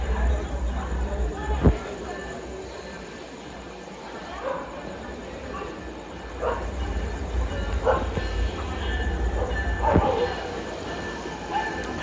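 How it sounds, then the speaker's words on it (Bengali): Benapole Express, hauled by locomotive 6621, running through Gandaria railway station without stopping, with a continuous low rumble and clattering wheel knocks over about twelve seconds and a dog barking intermittently nearby. "আর বেনাপোল এক্সপ্রেস 66-21 লোকোমোটিভ নিয়ে গ্যান্ডারিয়া রেলওয়ে স্টেশন থ্রুপাস করে যাচ্ছে।"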